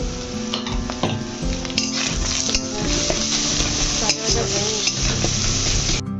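Onion browned with turmeric and salt frying loudly in a pan for an egg and potato dish, a dense steady sizzle with scraping stirs and occasional clinks of a utensil on the pan.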